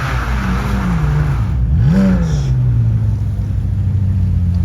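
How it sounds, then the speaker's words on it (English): McLaren Solus GT track-only car with a V10 engine passing close by, a loud rumbling drone that rises and falls in pitch as it sweeps past, with engine revs audible mid-pass. "And then we've got McLaren's track only car coming through, the Solus GT, fitted with the V10 in it"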